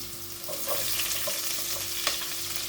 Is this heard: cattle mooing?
no